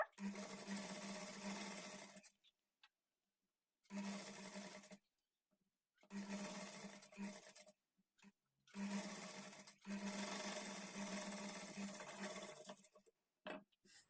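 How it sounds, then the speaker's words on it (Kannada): A sewing machine stitches along a blouse back neck edge in four separate bursts with silent pauses between, close and steady, with no talk over it. "ಈ ಕಡೆ ಎಡ್ಜ್ಗೆ ಒಂದು ಸ್ಟಿಚ್ ಮಾಡಿಕೊಳ್ಬೇಕು"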